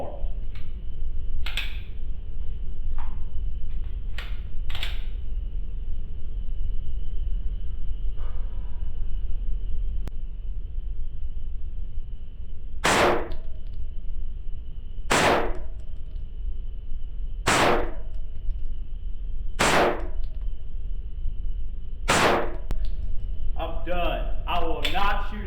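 Polymer 80 Glock 34-style pistol firing a series of sharp, loud shots spaced a few seconds apart, with a quicker cluster near the end, over steady background hum and a few lighter clicks.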